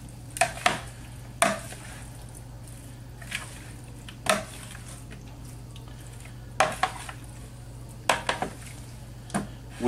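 Shrimp and asparagus being tossed in oil with salt and pepper in a bowl, heard as sporadic sharp clinks and scrapes of utensils against the dish over a steady low hum, close by.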